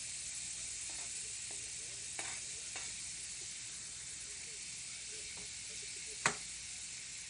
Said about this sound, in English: While the butter is melting, just add over my green onions into it.